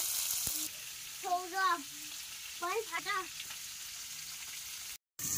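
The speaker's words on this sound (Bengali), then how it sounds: "মাছের মাথা ভাজা হচ্ছে।" A fish head fries in hot oil with a steady, soft sizzling hiss that runs through the whole stretch, while a voice talks over it.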